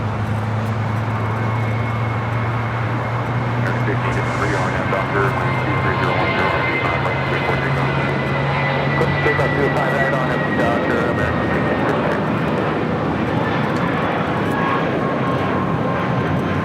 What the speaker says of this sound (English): Looks like we're going to have 2 departures, takeoffs before the A380 crossing over.